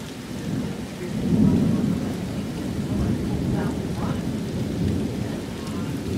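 Thunder rolls and heavy rain pours down during a tornadic storm in Cambridge City, Indiana, a dense steady roar of rain with low rumbles swelling and fading throughout.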